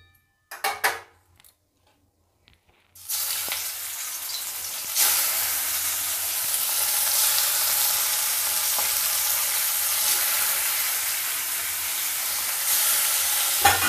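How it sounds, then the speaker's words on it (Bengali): Lote fish fries in hot oil in a covered pan, a loud, dense, continuous sizzle after a few brief knocks and a short silence. "আমি চাপা দিয়ে ভেজে নেব লোটে মাছগুলোকে।"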